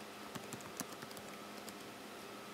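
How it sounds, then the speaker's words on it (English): Someone types on a computer keyboard while coding a web design class project, with a quick run of light, close key clicks in an uneven rhythm over a quiet background hiss. "I'm just typing this out for now."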